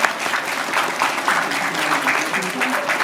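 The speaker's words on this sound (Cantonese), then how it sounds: "請大家俾掌聲，新郎哥" Wedding guests applaud the groom, a steady wash of clapping from a crowd that carries on for a few seconds beneath a speaking host.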